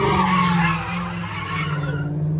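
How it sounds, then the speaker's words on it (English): A car skids hard with tires squealing as it is slung around, a loud sustained screech over engine roar throughout, close by with no talk. "they slinging your mom's car around out here, bro"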